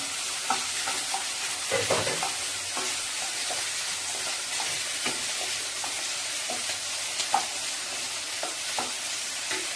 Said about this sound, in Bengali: এবার আমি দেবো রসুনটা, গোটা যে কুচানো রসুনের গুলো, এগুলো আমি দিয়ে নিলাম